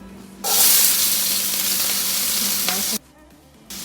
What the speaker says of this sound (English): Starting to smoke a little bit, so I'm gonna add some oil. And the onions goes in.